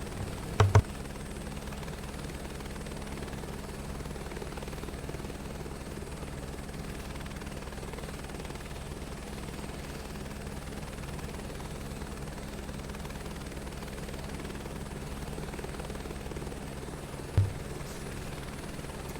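Helicopter engine and rotor whir steadily in Flight Simulator 2024, a constant low drone with a droning hum running unbroken throughout, with two brief clicks near the start and end.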